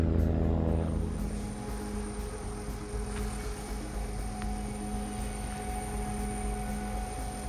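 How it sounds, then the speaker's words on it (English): A ski-equipped LC-130 Hercules cargo aircraft landing at Joint Base Elmendorf-Richardson in Anchorage, Alaska, gives a steady propeller drone and low rumble that starts a little louder and then holds at a moderate level, with no talk. "Here, you can see an LC-130 coming in for a landing at Joint Base Elmendorf-Richardson in Anchorage, Alaska"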